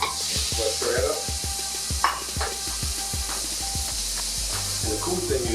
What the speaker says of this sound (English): And then we're gonna add our shrimp. All right. Let's stir that up.